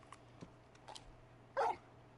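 Torgal, the large wolf-like dog from the video game Final Fantasy 16, lets out a single short, loud bark alone near the end, after a few faint sounds.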